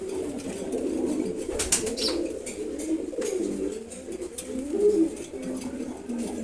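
A female pigeon coos in soft, repeated low throbbing calls that run through the whole stretch, close by, with a few brief higher rustles and faint chirps mixed in.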